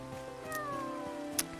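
Cat meowing in the video game Paleo Pines, a drawn-out, moderately loud mewing call over soft background game music, ending with a short sharp click.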